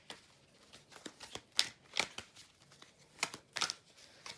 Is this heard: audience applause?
no